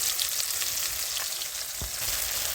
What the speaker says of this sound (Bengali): এখানে দিয়ে দিচ্ছি 1 চামচ আদা, কাঁচা লঙ্কা আর রসুন বাটা